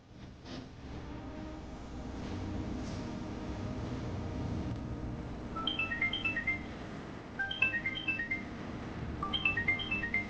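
A mobile phone rings with an incoming call, short bright melodic ringtone phrases repeating in bursts over a low background music bed during a TV serial scene.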